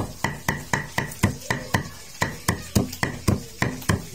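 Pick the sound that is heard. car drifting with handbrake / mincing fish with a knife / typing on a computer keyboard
mincing fish with a knife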